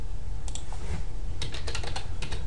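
Rapid keystrokes on a computer keyboard while a fonts folder is created for a website, a steady run of clicks over a constant low background hum.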